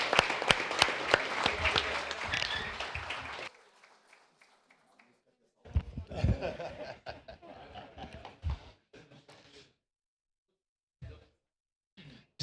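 Applause for a councillor in a municipal chamber during an ordinary session honouring a colleague, a few seconds of dense clapping mixed with chuckles, then scattered voices and talk after a pause.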